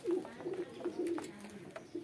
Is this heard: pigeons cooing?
yes